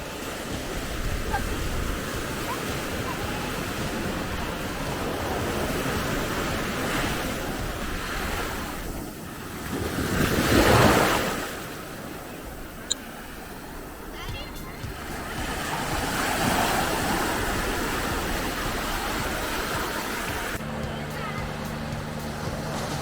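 Waves roll onto the shore at Rushikonda Beach in Vizag, a continuous roar of surf that swells loudly around the middle, mixed with wind buffeting the microphone and voices talking nearby.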